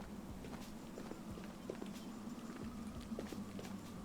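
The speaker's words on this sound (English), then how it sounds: "This rain just sounds like footsteps" Rain falling in the video game Ghosts of Tabor, a steady patter with soft, uneven taps that resemble footsteps, moderately quiet and continuous with no talking.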